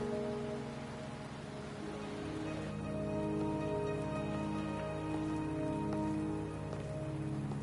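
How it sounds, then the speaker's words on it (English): Rain falls in a video game, a soft, continuous patter layered under game music with sustained tones, staying quiet and steady throughout. "Are you trapped here by the rain?"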